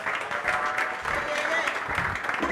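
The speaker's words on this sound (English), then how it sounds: "Let's give him a big round of applause." An audience at an African school football championship draw claps for the draw master, a short burst of fairly loud, dense applause with a murmur of voices mixed in.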